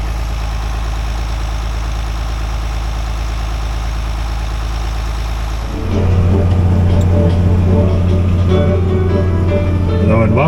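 Two John Deere tractors, a 4640 and a 7100, run their hefty diesel engines while planting corn, a steady loud idle that deepens and grows louder midway as the nearer engine takes load, with no talk.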